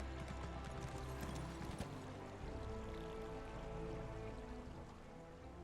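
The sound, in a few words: horse hooves walking in Elder Scrolls Online video game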